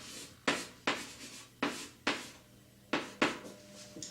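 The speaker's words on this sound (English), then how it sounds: "I'll write that down." A marker or chalk writes an equation by hand in a series of short scratchy strokes, about eight distinct bursts with brief pauses between them, quiet and close with no speech.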